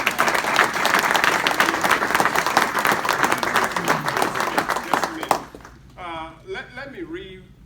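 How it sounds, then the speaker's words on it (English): An audience applauds at a presentation, loud dense clapping with a few whoops for about five seconds, then it cuts off and a voice speaks alone. "let's give them another round of applause."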